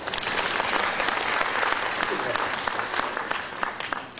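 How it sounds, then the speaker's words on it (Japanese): An audience claps in a dense, steady round of applause that stays strong, then thins slightly near the end, with faint voices beneath. "はい、拍手を。"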